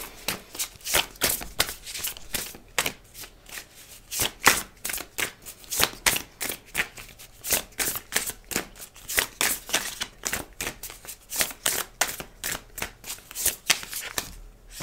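Oracle cards are shuffled by hand in a long run of crisp, rapid riffling bursts, close and steady throughout, with no talk over them.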